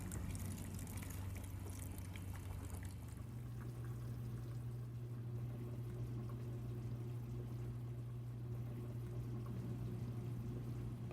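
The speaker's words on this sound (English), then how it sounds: "Add soup to the rice pot." Chicken soup pours into a rice pot with a faint, steady trickling flow, quiet and continuous throughout.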